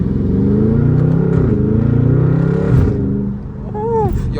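A 650 hp Dodge SRT 392 accelerates in gear, heard from the cabin as a loud, steady engine roar that climbs in pitch, dips through a shift and then builds again.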